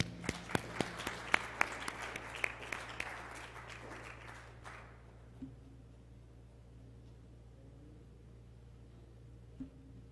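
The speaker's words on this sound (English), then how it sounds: "let's have a round of applause for the two of them" Applause from an audience fades out over the first few seconds, followed by a quiet room with a low steady hum.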